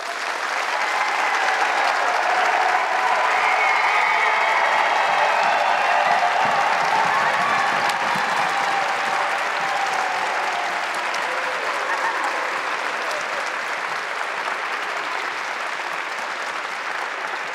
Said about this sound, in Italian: Accogliamo con un grosso applauso la prima squadra che si esibirà